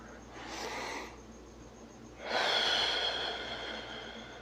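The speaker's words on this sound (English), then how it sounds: "let's take a few deep breaths" A person breathing deeply, a soft inhale followed by a longer, louder exhale, close and alone against a quiet background hum.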